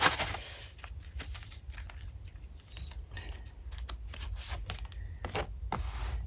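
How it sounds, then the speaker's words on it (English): Tarot cards being cut and shuffled by hand, a run of close, papery riffles and soft slaps with brief rustles, fairly quiet and steady throughout with no talking. "let's cut the cards"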